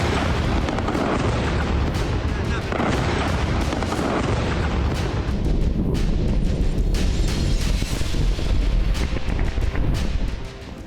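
Israeli strikes in Lebanon, heard as dense, continuous rumbling booms and rolling blasts that stay loud and unbroken throughout, with no speech.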